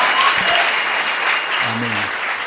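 A church congregation applauds in praise of Jesus, a dense wash of clapping hands filling the room, with brief voices calling out beneath it.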